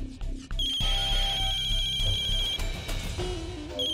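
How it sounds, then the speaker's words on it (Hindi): A phone ringtone plays loudly and close, a sustained electronic tone with repeating melodic notes lasting a few seconds. "अरे अनुराग भैया का फोन है"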